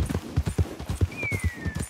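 Horse hooves galloping in Red Dead Redemption 2, a fast, steady clip-clop rhythm close and fairly loud, with no talk over it.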